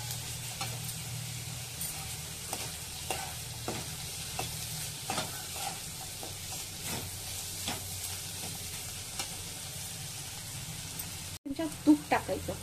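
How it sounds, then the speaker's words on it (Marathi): Coriander leaves sautéed in a pan for spiced leftover chapati, a low steady sizzle with regular spoon scrapes throughout, ending in a few louder knocks. "थोडीशी कोथिंबीर टाकायची. चांगलं परतून घ्यायचं."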